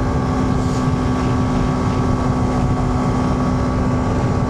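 A Suzuki V-Strom 250SX motorcycle with a Tuneboss ECU and full panniers at full throttle in sixth gear on a hill road, a loud steady engine drone heavily buffeted by wind roar, continuous with no pauses.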